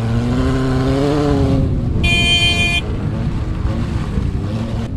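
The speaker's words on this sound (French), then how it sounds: "petit coup de klaxon pour dépasser une voiture plus lente" A rally prototype at a cross festival gives a short car horn toot while overtaking a slower car, a bright steady honk lasting under a second over the loud, constant engine drone of the onboard ride.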